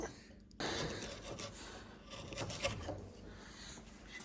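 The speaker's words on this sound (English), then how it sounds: "We can just drop our chisel into it so the grain above it's not going to affect the cut." A chisel works into wood at a score line, producing close, scraping and rasping cuts that begin abruptly and continue in uneven strokes, with no speech.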